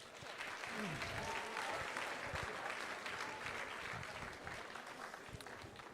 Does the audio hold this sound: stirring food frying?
no